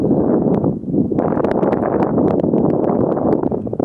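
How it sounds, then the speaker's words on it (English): Strong wind buffets the microphone nonstop, producing a loud, rough low rumble with occasional gusty crackles. "It's also quite windy"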